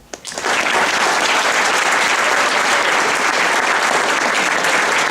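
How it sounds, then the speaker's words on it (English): Sustained, loud applause from a large audience of guests honoring JROTC cadets at a 2018 military ball, starting abruptly and holding steady throughout. "Please join me in recognizing all of these cadets with a round of applause."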